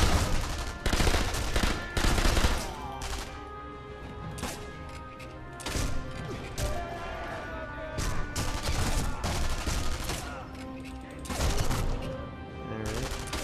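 Gunfire in the Sniper Elite V2 video game rattles out in repeated loud bursts and single sharp shots, close and nearly continuous throughout.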